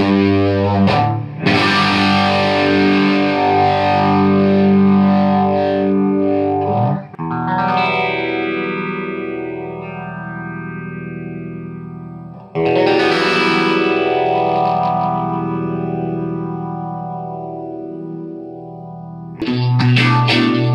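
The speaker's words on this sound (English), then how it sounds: "through this phaser, and that produced that rich, big sound on that album" Electric guitar played through a 1974 Electro-Harmonix Small Stone Mk1 phaser, loud sustained chords with deep sweeping phase notches rising and falling slowly, distorted and rich, with a few fresh strums restarting the swirl.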